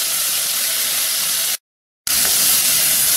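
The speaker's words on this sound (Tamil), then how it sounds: "தோல் நல்லா வதங்கிடுச்சு." Ridge gourd peel sautéing in a pan for a Tamil chutney gives a steady, loud broadband hiss and sizzle, broken by a half-second cut of silence midway, with no talking.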